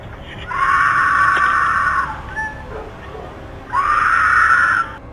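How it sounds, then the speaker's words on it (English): A woman screams for help in the distance, picked up by a doorbell camera on a porch: two long, strained high-pitched cries separated by a quieter gap with faint background noise. "you hear another woman off in the distance desperately screaming for help"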